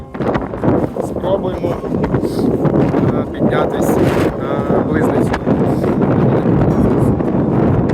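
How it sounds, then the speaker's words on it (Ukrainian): Strong wind on a mountain saddle near Blyznytsia in the Carpathians buffets the microphone in a loud, continuous roar with rumbling gusts, and a voice can be heard speaking beneath it. "Вітер дує, але будемо триматися."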